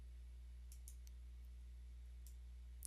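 A computer mouse clicks while working in an Excel spreadsheet, giving a handful of faint, crisp clicks over a quiet, steady hum.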